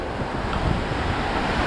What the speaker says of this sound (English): Strong waves,